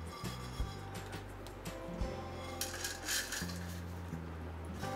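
Roasted whole spices for Maharashtrian garam masala being scooped out of a hot pan, with faint scraping and light clinks of a spoon against metal, soft and close.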